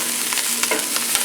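Tomatoes frying with kale in a pan, a steady bright sizzle with a few soft stirring scrapes over a short stretch.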